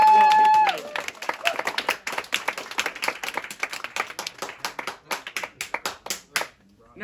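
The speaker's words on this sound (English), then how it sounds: "Let's have a round of applause for that, for fellowship" Audience applause in a church, a voice finishing at the start and then sparse, distinct claps from a small congregation, individual hand claps audible and fading out near the end.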